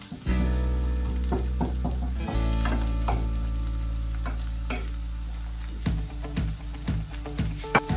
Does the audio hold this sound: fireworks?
no